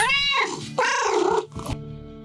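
Cats meow close and loud in an Old West detective video game, two long wavering calls in quick succession, then the sound cuts to near silence, with no voices.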